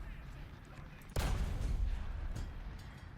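A heavy Centurion tank cannon blast in the video game War Thunder goes off abruptly, followed by a rumbling, booming tail and a fainter second thud.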